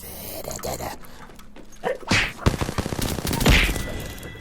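Gunshots from the video game Apex Legends ring out in a quick burst of sharp cracks, loud and close, with a couple of heavier blasts near the end and a dog-like bark in the mix.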